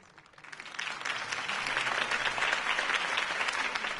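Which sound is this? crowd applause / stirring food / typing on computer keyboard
crowd applause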